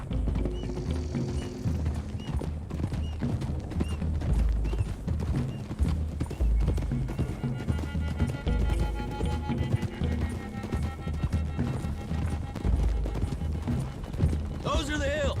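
Galloping horses in the Red Dead Redemption 2 video game, a steady run of hoofbeats across the clip with game music and effects layered over it, plus a brief whinny-like burst near the end.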